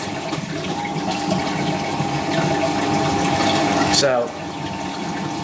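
A Fisher & Paykel washing machine pumps water out during its drain cycle, a steady close whooshing hum with a brief gurgling surge near the end, under a single spoken word.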